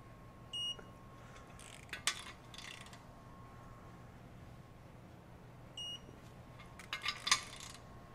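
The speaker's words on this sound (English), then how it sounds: "Give the same audible beep, audible chirp, as well as the lights and a vibration." Two short electronic beeps from an electronic torque wrench, about five seconds apart, each followed by faint clicks, in a quiet room with a low hum.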